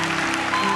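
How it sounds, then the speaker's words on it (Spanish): A church congregation claps steadily, a dense wash of applause sustained through a short moment with a faint tonal hum underneath. "Vamos, aplaude su gloria"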